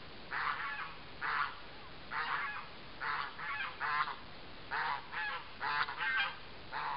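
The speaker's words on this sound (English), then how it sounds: "Singing turkey!" Turkeys gobbling in a run of short, loud, rattling calls repeated in bursts, close by, with quiet gaps between and no talk.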